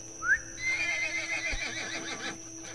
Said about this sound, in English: I'd rather take my horse for a ride instead